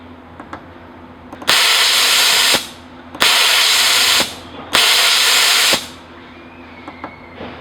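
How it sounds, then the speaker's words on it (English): A pneumatic mister sprays air and water in three loud bursts of hissing spray, each lasting about a second, separated by short pauses, with faint clicks between them. "it will allow air to flow through, which will then come through the tube here and spray out the end"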